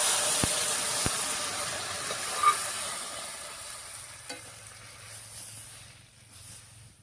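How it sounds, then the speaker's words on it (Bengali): Taro pieces go into spices frying in a pan, bringing a bright hissing sizzle with a few clanks that gradually settles and fades, close by, with no talk. "তো প্রথমে আমি কচুটা দিয়ে দিচ্ছি।"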